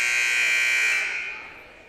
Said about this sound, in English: Buzzer sounds, and we'll get ready to close out the first half of play